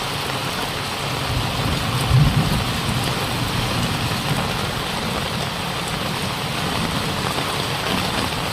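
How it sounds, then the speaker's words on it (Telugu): Rain falls steadily across Hyderabad city as a dense, loud, continuous hiss of drops on surfaces, with no voices and a brief low rumble partway through. "ఇప్పటికే హైదరాబాద్ నగరం వ్యాప్తంగా పలు ప్రాంతాల్లో వర్షం కురుస్తోంది."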